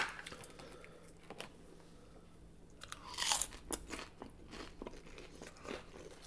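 Crunchy fried shrimp at a Hawaiian barbecue is bitten and chewed up close, quiet crackling crunches clustering into a louder burst midway before fading to softer chewing.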